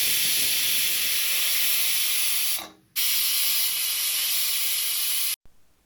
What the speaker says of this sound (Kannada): ಇವಾಗ ಕುಕ್ಕರ್ ಮುಚ್ಚಳನ ಮುಚ್ಚಿ 2 ವಿಷಲ್ನ ಕೂಗಿಸ್ಕೋಬೇಕಾಗತ್ತೆ